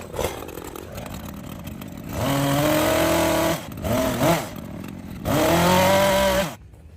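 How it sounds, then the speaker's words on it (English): A chainsaw cuts through a holly bush in bursts, idling low between rising whining revs of a few seconds each, close and loud. "it's gonna be easier if I just use the chainsaw to cut it down"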